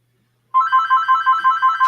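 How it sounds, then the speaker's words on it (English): A telephone left plugged in rings loudly and close by, a bright electronic warble repeating in quick even pulses after a moment of silence, with no one talking over it. "Sorry about that phone. I was going to unplug it and I forgot to do it."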